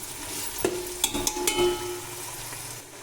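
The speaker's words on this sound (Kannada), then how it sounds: "ಬೀನ್ಸ್ ಹಾಕಿದ್ದೀನಿ ಚೆನ್ನಾಗಿ ಮಿಕ್ಸ್ ಕೊಡಬೇಕು" Beans being stirred in a frying pan while cooking soybean biryani, with sharp scrapes and clinks of the spoon against the pan over a soft sizzle, several distinct strokes close up.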